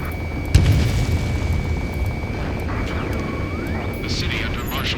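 A jet roars in the aerial combat game Ace Combat 7, with a sharp boom near the start and then a sustained rumbling engine drone, tonal whines sweeping up and down, and scattered bursts toward the end.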